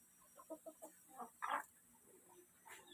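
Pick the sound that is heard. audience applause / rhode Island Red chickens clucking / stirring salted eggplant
rhode Island Red chickens clucking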